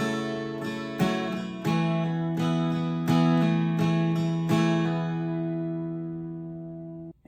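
Acoustic guitar plays a song's interlude at a slowed tempo, with about seven strummed and plucked chords spaced roughly a second apart, ringing out and fading at the end.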